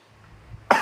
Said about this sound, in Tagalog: Saan siya na may ubo?